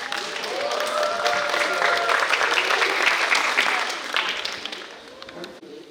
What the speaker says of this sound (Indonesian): mari kita sama-sama undang dengan tepuk tangan yang meriah